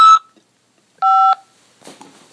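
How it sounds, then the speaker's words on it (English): Two-tone telephone keypad beep on an automated prison collect-call line from a corrections facility, one clean tone burst of about a third of a second after a brief earlier blip, followed by faint handling noise. "After the beep, press 5 to accept this call."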